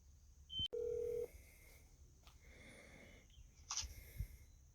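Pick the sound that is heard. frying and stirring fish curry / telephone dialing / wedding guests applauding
telephone dialing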